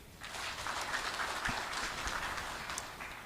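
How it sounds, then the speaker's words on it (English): Audience at a homecoming ceremony for the Multinational Security Support Mission in Haiti clapping for themselves, a faint, distant wash of many hands clapping held steady throughout, with a couple of soft low thumps. "clap for yourself."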